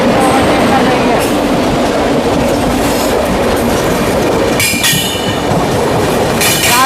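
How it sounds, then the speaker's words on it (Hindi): The Sealdah Rajdhani express overtakes on a parallel track beside a moving Summer Special train in India, a loud, steady roar of rolling wheels with clickety-clack and brief high squeals close by, without speech. "सियालदह राजधानी हमारी ट्रेन को पैरेलल ओवरटेक कर रही है"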